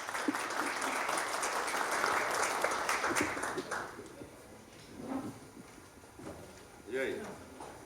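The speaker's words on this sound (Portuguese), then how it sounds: "Uma salva de palmas para o nosso deputado." Audience at a debate dinner applauds the deputy, a broad wash of clapping for about four seconds that then fades into scattered claps and murmuring voices.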